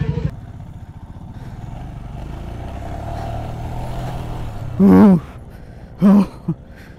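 A Royal Enfield Himalayan 411 motorcycle rides offroad, its engine a steady low rumble with rattling clatter throughout, while two sharp loud bursts, like shouts or gasps, cut in near the end.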